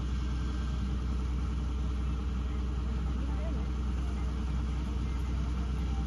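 A tractor engine with hydraulics runs on a farm, giving a steady, low, rumbling drone that holds unchanged for the whole stretch, with voices faintly underneath.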